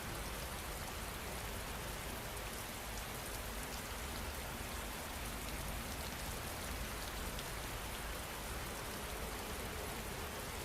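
Steady, even rain falls hard with a constant hiss and patter, a dense wash of drops on surfaces continuing without pause and no voices.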